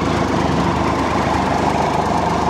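Triumph Tiger Explorer ABS motorcycle engine idling on its stand, a loud, close, steady low rumble with even throbbing pulses throughout and no voices.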